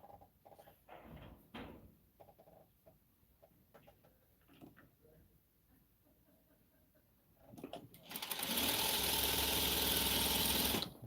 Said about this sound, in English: let's keep sewing though